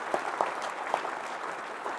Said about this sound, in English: please give her a big round of applause for all she does for the PAC Band